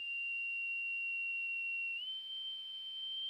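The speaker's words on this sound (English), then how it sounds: "that sounded like a whistle that needs wetting" A steady, pure whistle tone holds alone for over three seconds, stepping up slightly in pitch partway through, clear and fairly close.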